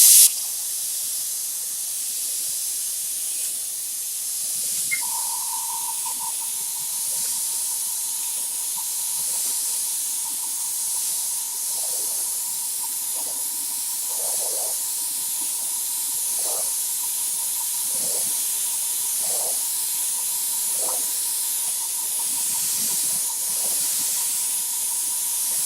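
A steady airbrush or spray-gun hiss fills the space as greenish blue paint is sprayed onto glass, with a faint high tone running underneath and occasional soft clicks, continuous and close.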